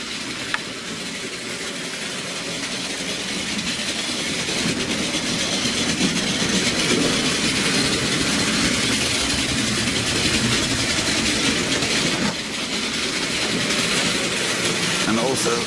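An OO gauge model train rumbles steadily along the track with continuous clattering and mechanical noise, loud and close, and a voice occasionally speaks underneath.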